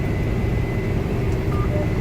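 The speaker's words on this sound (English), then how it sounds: "This same motor that's in like an 8530 9 liter power deck 6-cylinder turbocharged motor." A John Deere 4920 sprayer's 9-liter six-cylinder turbocharged engine runs steadily, a continuous low rumble with a faint high whine, heard from inside the cab.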